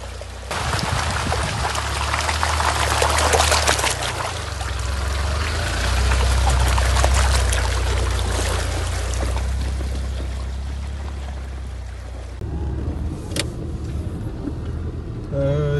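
Amphibious snow-and-swamp ATV driven slowly in first gear through snow near Yekaterinburg, with a steady low engine drone and sloshing, trickling noise throughout. A brief shift in tone comes near the end.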